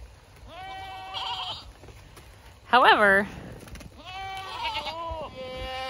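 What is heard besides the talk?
goats bleating on a farm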